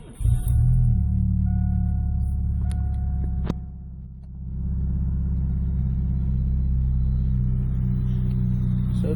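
A Chevrolet S10 pickup truck engine idles after startup, a steady low rumble that dips briefly after a loud opening before settling into an even, close idle.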